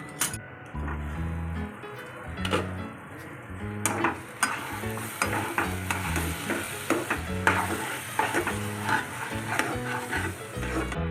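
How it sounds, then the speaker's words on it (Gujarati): Pasta tipped into a pan of cooked vegetables and stirred, a steady close sizzle with repeated scraping and clattering strokes of a spoon against the pan, running continuously without talk. "તો હવે આ પાસ્તા આપણે અંદર નાખી દઈશું."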